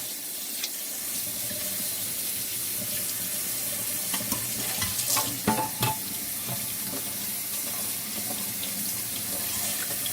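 Sea moss is washed in a strainer under a running tap, with a constant rush of water and occasional splashing as hands work through it. No one speaks.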